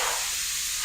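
WD-40 sprayed from an aerosol can during valve-cover work on a 2010 Kia Soul engine: a brief, steady, close hiss lasting under a second.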